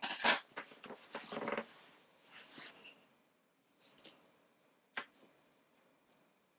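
Scissors snipping crochet yarn while making an amigurumi toy, a cluster of quick close cuts and rustles at first, then a few fainter isolated snips and handling noises in a quiet room, with no talking.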